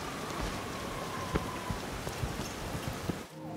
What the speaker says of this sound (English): It's raining, but we still out here.